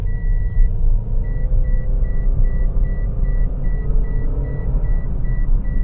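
A 2021 Toyota Yaris 1.2 Sport on the move: a steady, close engine and road drone heard from inside the cabin, with a repeating electronic warning beep above it.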